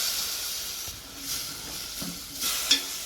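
Chopped tomatoes for rajma curry hiss and sizzle in a hot pan with turmeric and salt, soft steady frying punctuated by a few stirring scrapes, close and fairly quiet with no talk.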